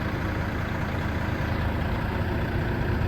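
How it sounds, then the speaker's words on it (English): A loud truck idles close by with a steady, unbroken low rumble and dense engine roar throughout, no voices over it. "Oh, I'm gonna miss this loud truck."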